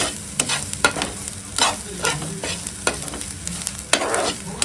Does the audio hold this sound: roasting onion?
yes